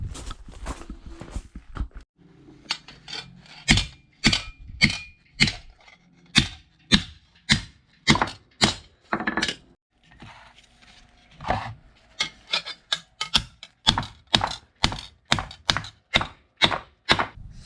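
Metal bracing pieces hammered on a small anvil, a long run of sharp, evenly paced ringing strikes, close and loud, with brief pauses between bursts.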